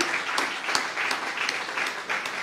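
An audience at a talk on industrialization in the economy applauds its elder speakers, a steady round of many hands clapping, moderately loud and continuous with no one speaking over it.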